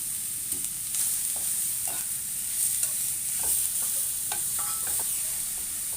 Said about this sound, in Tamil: இப்போ அதே இதுவில் நம்ம வந்து கேரட்டையும் வதக்கிக்கலாம்.